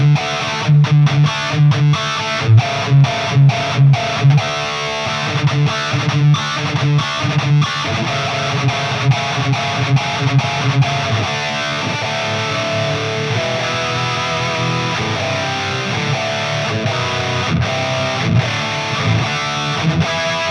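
Electric guitar played through a Line 6 POD GO on the Revv Gen Red preset with delay off, heavily distorted, with chugging palm-muted riffs giving way to sustained crunchy chords, loud and up close.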